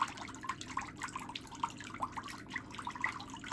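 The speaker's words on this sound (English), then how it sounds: "you can put that foot back in the water" Splashes and drips of water in a pedicure foot bath at a nail salon as a foot goes back into the basin, a light irregular patter of small sloshes and drips up close.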